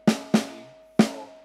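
Three sharp drum hits in a swung jazz pattern of crotchets and quavers, each a loud close attack that rings out with a sustained tone, the second following quickly and the third after a longer gap.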